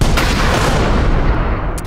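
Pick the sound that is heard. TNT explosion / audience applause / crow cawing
TNT explosion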